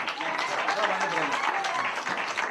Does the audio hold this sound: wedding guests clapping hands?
yes